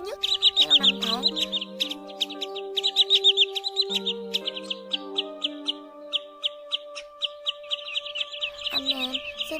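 Repeated chirping whistled calls of a common greenshank, a migratory shorebird, sound in rapid bursts of short high notes, close and fairly loud, with sustained tonal electronic-sounding hums underneath and no talk.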